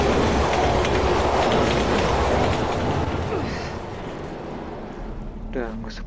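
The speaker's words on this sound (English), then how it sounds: "Train coming." A train rumbles past in the video game Resident Evil 6, a loud, dense wheel-and-rail roar with clattering that fades somewhat toward the end, where a brief voice is heard.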